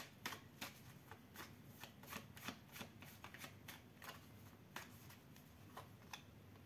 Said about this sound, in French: On va tirer une lame de ce petit jeu pour voir.